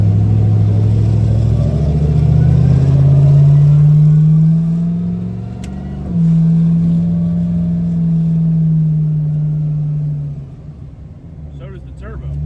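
A loud car engine with a performance cam revs with a lumpy, choppy idle character, rising and holding high, dipping briefly, then climbing again before easing off.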